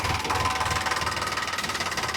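A steady, rumbling diesel engine of a Sonalika 745 tractor idles close by, with a regular throbbing pulse and a faint whine riding on top, no voices.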